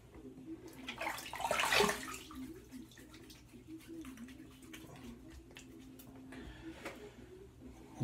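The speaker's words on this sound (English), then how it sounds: "So let me rinse up the face and we'll get started." Water splashing and running as a man rinses his face at a basin before a wet shave, a brief louder burst of splashing followed by quieter trickles and faint drips in a small room.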